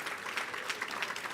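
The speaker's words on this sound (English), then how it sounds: "Let's give them a round of applause" Audience applause at a school athletic hall of fame dinner and induction gala, a steady wash of clapping from a seated crowd honoring sponsors, fairly soft and distant without any talking.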